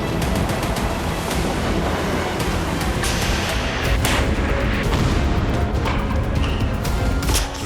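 Russian strikes in Ukraine set off a dense, continuous barrage of booming explosions and crashing blasts, loud and rumbling without pause, with sharper bursts cutting through the roar.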